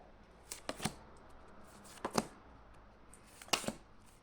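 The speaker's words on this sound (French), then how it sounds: "donc je vais poser 3 cartes" Three tarot cards laid out on a table one after another, each one a quick double snap or flick of card stock, separated by quiet pauses.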